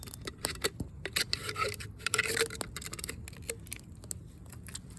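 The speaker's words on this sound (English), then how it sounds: "I'm just using a knife that I have. Just gonna cut the end off." A knife cutting the end off a homemade survival water filter outdoors, giving close, irregular scraping and snipping clicks with brief rustles, fairly quiet over light background noise.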